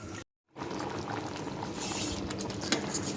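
Sheer khurma, milk sweetened with sugar, bubbles at a steady simmer in a pot with a soft, continuous, close-up rushing sound that cuts out for a moment near the start.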